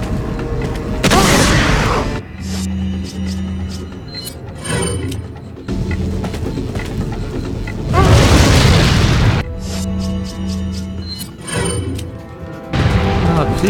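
Flashbang grenade blasts in Resident Evil 4 land as loud booms within a chaotic game mix, with repeated heavy bursts spread across the stretch and a voice talking in between.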